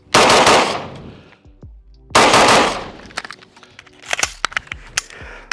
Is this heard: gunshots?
yes